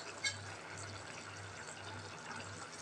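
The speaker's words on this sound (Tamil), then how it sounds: "ஒரு 1/2 டம்ளர் தண்ணி விட்டுருக்குறேங்க." Water poured into a pan of cooking vegetables with potatoes: a steady, continuous liquid pouring and filling sound at moderate level throughout, with no talk.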